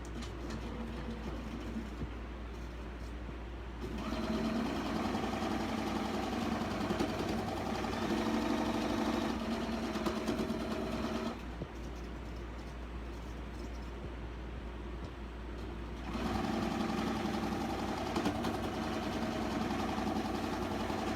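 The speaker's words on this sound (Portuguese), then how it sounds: "E vou costurar então essa sequência aqui" Sewing machine stitching a pinned geese-in-the-pond quilt block, running in two steady mechanical bursts of even humming stitching with a short pause between, close and fairly loud, no talk.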